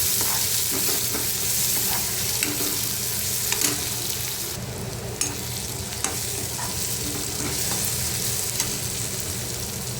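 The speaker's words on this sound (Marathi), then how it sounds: "आता याच्यामध्ये टोमॅटो घालू टोमॅटोसुद्धा परतून घेऊया" Tomatoes sautéed with onions and small shrimp in a hot pan give a loud, continuous bright sizzle, broken by occasional scrapes and knocks of a stirring spoon, close up and without speech.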